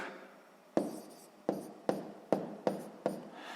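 A pen scratches numbers onto paper for column multiplication, giving a series of six short, crisp strokes at a fairly regular pace, close and quiet with no talk.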